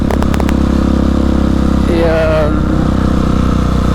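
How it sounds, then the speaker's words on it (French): A Husqvarna 701 motorcycle runs with a loud, steady engine drone, wind-buffeted and close, with a brief rising engine note midway while someone talks over it. "Mais la moto faut que je la démarre, faut que je la fasse rouler."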